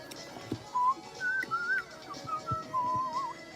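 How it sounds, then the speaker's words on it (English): A person whistles a melody in short, wavering phrases, close and clear, with a quiet background and no talking. "It's harder to whistle a song you don't know."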